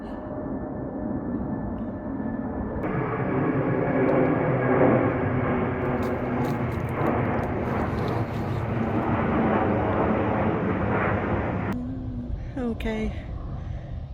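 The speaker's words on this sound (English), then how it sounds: "Another plane's appearing." An airplane passes overhead above an allotment garden, a broad steady roar that swells and holds for several seconds, then cuts off, with faint outdoor sounds around it.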